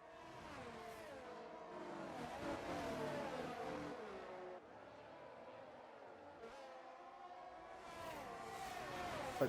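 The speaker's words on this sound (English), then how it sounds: "Huge array of cars going here at the moment." Racing cars from a video game on the Japan circuit roar steadily in a dense pack, engines revving and shifting pitch as several pass close together, with a commentator's voice faintly underneath.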